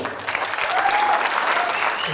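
An audience at a stand-up comedy tournament show in Red Deer breaks into loud, sustained applause as a comedian is welcomed to the stage, with scattered cheers and voices mixed into the steady clapping.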